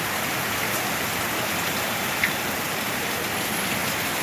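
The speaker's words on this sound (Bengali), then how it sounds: "জয়পুর রাজস্থানে প্রচণ্ড বৃষ্টিপাত হচ্ছে" Heavy rain pours onto a flooded street in Jaipur, Rajasthan, as a dense, steady hiss of falling water, close and unbroken, with no voices.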